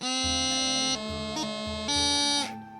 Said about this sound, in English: if I go from a B and use a grip up to C, it's going to sound like this